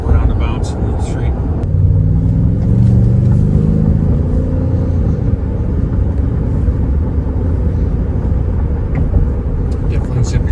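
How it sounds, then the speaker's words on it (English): A car with a 3.5L EcoBoost engine and a throttle controller rumbles loudly while driving around street roundabouts, a steady close engine and road drone with some faint higher noise. "Just drive around the roundabouts in the street."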